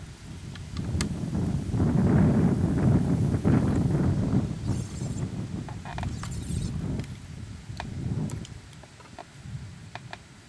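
Steady low rumbling wind buffeting the microphone outdoors at a muzzleloader shooting session, loudest in the first few seconds then easing, with a few faint clicks on top.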